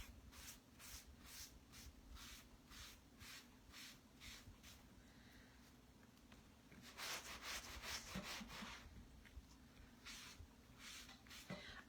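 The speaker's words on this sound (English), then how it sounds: "I'm just going to rub over this to get all of the paste out of the silk screen." A wet board eraser rubs over a silk screen to scrub out paste, giving rhythmic back-and-forth scrubbing strokes, steady at first and then quicker and louder toward the end, close up with no talking.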